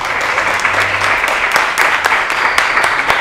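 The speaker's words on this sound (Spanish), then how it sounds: "un aplauso para ti" Live audience applause after a talk, many hands clapping at once in a dense, steady patter that fills the room, close and loud with no voices over it.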